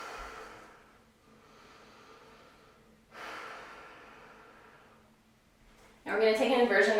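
Two long, slow breaths drawn in and out while resting in child's pose during an intermediate yoga inversion practice, each lasting a few seconds, followed by a sudden louder burst of sound at the end.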